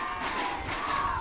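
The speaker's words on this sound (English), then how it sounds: "great crowd energy going here at Mainland Common this evening" Crowd noise from spectators at an evening college soccer gold-medal match at Mainland Common, a steady, dense roar of cheering voices held at an even level throughout.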